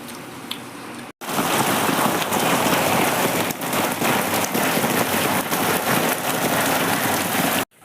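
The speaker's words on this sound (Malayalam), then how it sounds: "അപ്പം നല്ല മഴ പെയ്തിട്ടുണ്ട്" Heavy rain pours down in a dense, continuous roar after a brief pause, drumming loudly and evenly on nearby surfaces.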